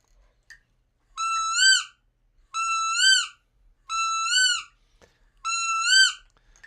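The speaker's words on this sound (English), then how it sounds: "All right, let's hear the wood duck." A wood duck call, a hand-blown hunting call, gives four evenly spaced rising whistled squeals, each about half a second long, clear and close with near silence between them.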